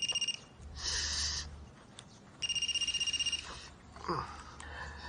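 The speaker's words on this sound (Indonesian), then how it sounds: "Itu ada telepon." A mobile phone rings in two bursts of a rapid, pulsing electronic tone separated by a pause, moderately loud and close, with faint talk between the rings.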